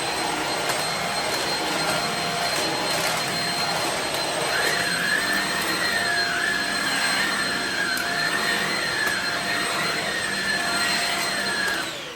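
A Shark HV301 Rocket Ultra-Light corded vacuum cleaner runs continuously with a loud, steady high-pitched motor whine and airy rushing, and the tone wavers slightly as it moves over carpet and floor.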